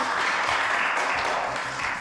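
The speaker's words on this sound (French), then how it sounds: "que je vous demande d'applaudir très très fort" A French television studio audience claps loudly and steadily, a thick wash of applause that runs unbroken from start to end.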